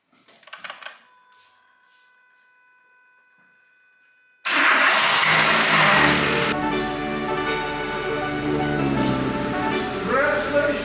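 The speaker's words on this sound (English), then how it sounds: "So, you might want to try starting the car." A Renault Twingo's engine cranks and catches abruptly after a few electronic dashboard beeps and a quiet pause, then settles into a loud, steady idle close by.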